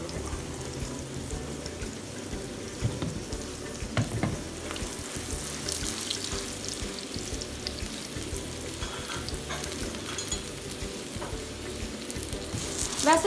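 A raw minced-meat (qeema) paratha cooks on a pan with oil, giving a soft, continuous sizzle and crackle throughout, fairly quiet, with a few small scrape-like clicks and no voices.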